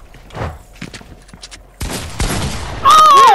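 Gunfire in Fortnite crackles in several sharp bursts and thuds, growing denser and louder toward the end with a rising whine, amid game effects.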